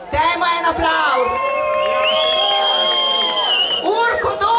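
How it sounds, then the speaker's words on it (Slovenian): A rock-concert crowd cheers, whoops and shouts loudly and continuously for a guitarist introduced on stage, a dense, close roar of voices with shrill peaks that swells again near the end. "Dajmo en aplavz."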